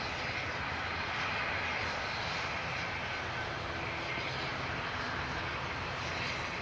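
A jet airliner on final approach to runway 27R at London Heathrow Airport, a steady broad engine roar that holds loud and continuous throughout with no voices over it.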